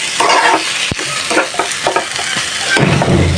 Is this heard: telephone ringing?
no